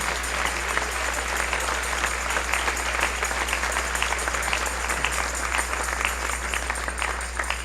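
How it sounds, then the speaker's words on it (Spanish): A church congregation applauding during a Sunday morning sermon, sustained thick clapping from a crowd held steadily loud with a low steady hum underneath. "Denle un aplauso al Señor en esta hermosa mañana."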